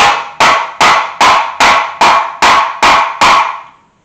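A ball peen body hammer strikes metal on a 1981 Chevy C10 squarebody, nine sharp ringing blows in an even, steady rhythm, loud and close, the last one trailing off.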